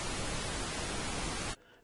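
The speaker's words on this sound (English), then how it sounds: "so I'm also going to lower the volume on the pink noise track." A pink noise track plays back in Audacity as a steady, dense hiss that cuts off abruptly near the end, leaving a much fainter residual noise.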